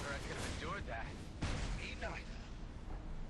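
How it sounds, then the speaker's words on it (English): A spaceship blows apart in the space shooter game Everspace, a loud booming burst with crackling debris over a low rumble, while a person talks excitedly over it. "That is such a pretty explosion."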